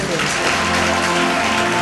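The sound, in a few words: audience clapping loudly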